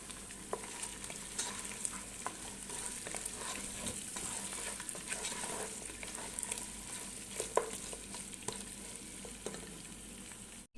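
Mutton with onions and garlic frying in a karahi, a steady close sizzle with scattered scrapes and clicks of a spoon stirring throughout, no voices.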